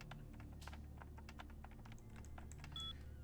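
Rapid keyboard clacking from a hacking sequence in the video game Vampire: The Masquerade - Bloodlines, a steady run of crisp, close keystrokes over a low ambient hum, with a brief tonal beep near the end.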